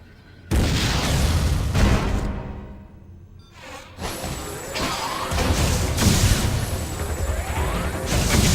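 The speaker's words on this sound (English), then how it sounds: "Why not say hello with a missile?" A missile blast in the video game Metroid: Other M, a sudden loud boom followed by rumbling crashes, then a second burst of explosive debris and swooshing effects that keeps up to the end.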